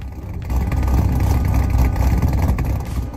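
A supercharged V8 of nearly 700 horsepower in a Cadillac CT5-V Blackwing with a manual gearbox revs hard and close, a sustained deep engine roar swelling and holding for about three seconds with no talking over it.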